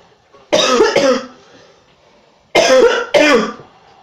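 A person coughs sharply and close up, in two quick pairs of loud bursts separated by a short quiet gap.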